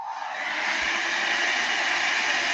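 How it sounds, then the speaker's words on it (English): A regular hair dryer with high, low and cool settings blows steadily from start to finish, a loud, even whooshing airflow with no pauses. "This is like a regular hair dryer."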